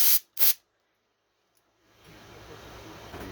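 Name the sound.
compressed air spraying into Olympia typewriter pivot block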